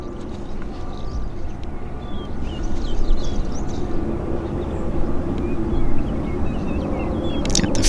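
A Porter Airlines plane landing at Vancouver airport, heard as a continuous low jet roar that gradually swells louder, with faint chirps and clicks from the surroundings.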